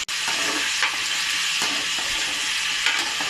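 Vegetables and peas for a vegetable kurma sauté in a hot pan, giving a steady, dense sizzle and hiss with occasional stirring scrapes, close and continuous throughout.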